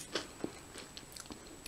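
Hot and spicy Lorenz Pom Sticks potato sticks bitten and chewed up close: a couple of distinct crisp crunches followed by quieter, scattered munching, fairly soft overall.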